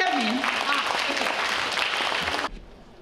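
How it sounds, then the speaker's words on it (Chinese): Loud, dense clapping from an audience of elders at a Father's Day lecture gathering of a Taiwanese seniors association in Northern California; it lasts about two and a half seconds, then cuts off abruptly. "咱大家拍手啊来个证明啊"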